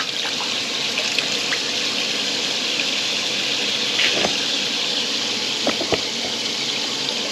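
Hot water runs steadily from a Camplux portable water heater outlet, a continuous close splashing stream with a few small clinks and splatters, no talking.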